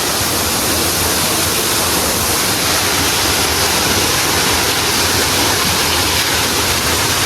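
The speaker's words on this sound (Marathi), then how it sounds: "मित्रांनो, आता आपला फायनली हे बोर चालू झालेला आहे." Water gushes from a running borewell pump on a farm, a loud, unbroken roaring rush that holds steady from start to finish.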